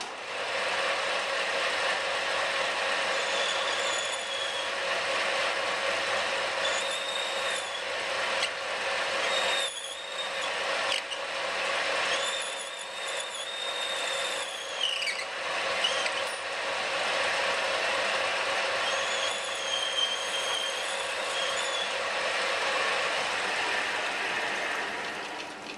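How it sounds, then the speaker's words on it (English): Centre lathe taper turning a metal workpiece at an angle, giving a steady close mechanical whir with ratcheting, gear-like clicks and intermittent squealing tones as the tool cuts, continuous throughout with no talking. "this time we're going to cut at an angle, so we're going to taper turn it"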